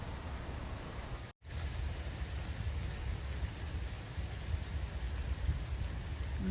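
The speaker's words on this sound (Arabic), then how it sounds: "ما شاء الله بلش تمطر." Rain begins to fall near a home in Canada as wildfires approach. It makes a steady, soft wash of noise with faint patter, briefly cut by a short dropout, and no voices are heard.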